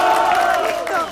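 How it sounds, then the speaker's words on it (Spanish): An audience at a live coffee-themed beauty pageant cheers and shouts loudly as a contestant from Colombia is named, with voices rising in a sustained, excited roar and no clear break. "¡Aplausos para Jessica!"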